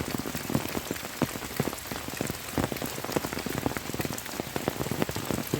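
The season's first monsoon rain falls in Yeoor forest, a dense, steady patter of drops on leaves and surfaces with sharp close splats scattered throughout and no voices.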